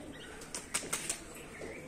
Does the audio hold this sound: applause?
no